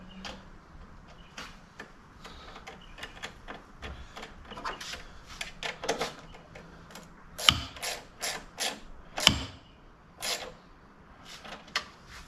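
Ratchet tightening a Torx fastener on a BMW 135i during boost solenoid replacement: a sequence of quiet, uneven mechanical clicks and ticks, with a few sharper, louder snaps partway through, recorded close up.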